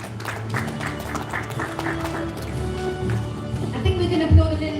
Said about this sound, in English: I think we can applaud a little more